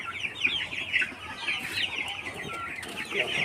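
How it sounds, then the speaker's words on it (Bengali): Sonali local cross chickens on a farm cluck and chatter continuously, a dense flock of overlapping bird calls close by with steady farmyard background and no talking. "এটা কী জাতের মুরগি? সোনালি। সোনালি। সোনালি লোকেলের ক্রস।"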